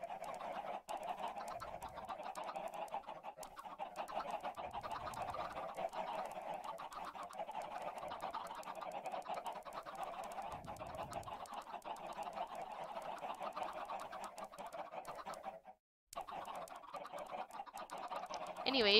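Continuous clucking and squawking of Minecraft chickens fills the scene, steady and fairly loud, with a brief dropout near the end.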